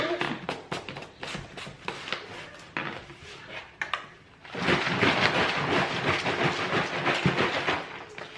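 A homemade laundry detergent of water and ingredients is shaken hard in a bottle, giving a close, loud, rhythmic sloshing rattle that keeps going and grows denser and steadier halfway through.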